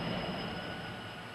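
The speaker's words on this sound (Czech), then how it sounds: "Zasraný metro." Metro train rumbling past with a steady broadband roar and faint high wheel squeal, fading slightly as it moves away, no voices.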